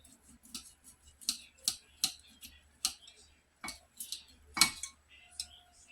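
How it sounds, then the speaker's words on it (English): A knife slicing kernels off an ear of corn, working from top to bottom: a series of short, crisp cutting clicks and scrapes at an irregular pace, close and fairly quiet. "I'm going to take my knife and go from the top to the bottom"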